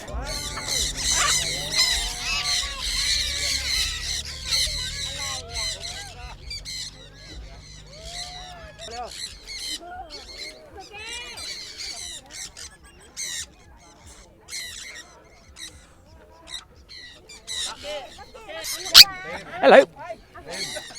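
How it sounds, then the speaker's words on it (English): A mixed flock of parrots, parakeets and other free-flying birds keeps up a busy, continuous chatter of squawks and chirps at Huai Lan Reservoir in Chiang Mai, Thailand, with a person talking over the calls for much of the time. "A murmuration of parrots, parakeets and birds flying together in a swarm when they dive and fly together."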